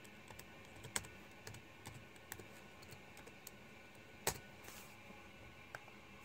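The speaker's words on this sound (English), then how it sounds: "So yeah, I'm just gonna enter my password." Quiet, irregular key presses on a Gateway ML3109 laptop keyboard as a password is entered, a handful of soft clicks with a couple of sharper taps, close but faint over low room noise.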